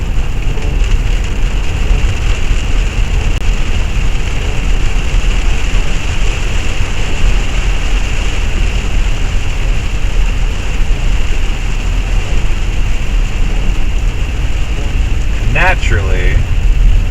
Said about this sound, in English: it has to start raining a bunch right as I get to my destination